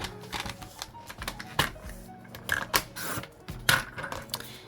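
A paper trimmer slices black cardstock strips for a handmade card, giving a series of close, sharp clicks and sliding scrapes in quick irregular bursts over a quiet tabletop background.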